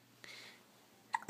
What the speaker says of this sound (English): You got the hiccups, huh?